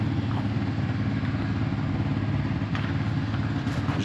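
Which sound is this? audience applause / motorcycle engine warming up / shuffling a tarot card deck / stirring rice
motorcycle engine warming up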